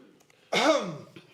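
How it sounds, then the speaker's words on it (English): A single throaty cough or throat-clear bursts out after a short quiet pause, then trails off with a faint breathy sound. "the idea is that you attract the attention of the audience by coughing"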